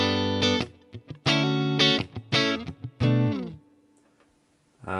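An electric guitar played through a Quad Cortex on a Friedman BE-100 clean model with spring reverb plays short chords and stabs in bursts, each ending in a brief reverb tail before silence.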